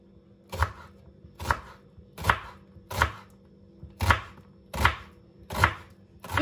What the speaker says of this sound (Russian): Лук надо нарезать тоненькими, четверть кольцами.